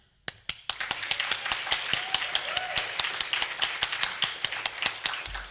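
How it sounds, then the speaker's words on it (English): At a student orientation, sparse, sharp claps ring out close by in a fairly even rhythm, more a handful of people clapping than a full crowd, keeping up for several seconds. "give yourself a round of applause and congratulate yourself"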